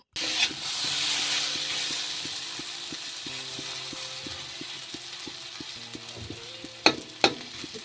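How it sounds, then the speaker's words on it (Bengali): Potatoes fry in a pan until reddish, a constant sizzle joined by rhythmic mechanical clicking and a few loud knocks near the end. "আলুটা আমি দেখো এদিকে প্রথমে একটু লাল লাল করে যে ভাজা করে নিচ্ছি"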